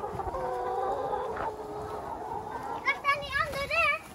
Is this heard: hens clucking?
yes